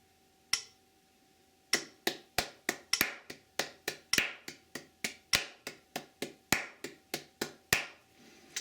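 Bare hands clap a steady run of sixteen sharp, evenly spaced claps, four to each beat, close and dry in a quiet room, some landing a touch harder than the others.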